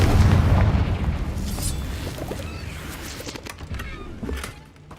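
Confringo spell blasts in the Hogwarts Legacy video game: a loud booming explosion that opens the clip and rumbles and fades over several seconds, with faint crackling debris afterward.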